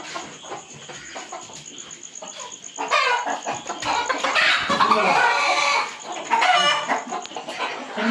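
Gavthi native village hen and other fowl in a yard, with clucking and a rooster crowing loudly midway over a busy background of birds and insects.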